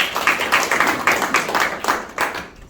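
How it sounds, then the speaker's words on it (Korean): A class audience at a prayer-training lecture gives a short round of clapping, several pairs of hands beating unevenly in quick bursts that taper off after under three seconds. "박수 주세요."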